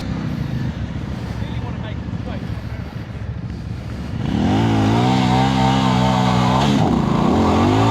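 Benda LFC700 motorcycle engine revving near the microphone, wind noise and chatter first, then a loud steady rising rev that holds before dipping.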